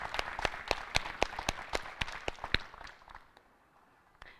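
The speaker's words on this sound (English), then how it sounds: "let's give her a round of applause" A graduation-ceremony audience claps for an absent prize winner, a lively burst of applause that thins and fades out over a few seconds.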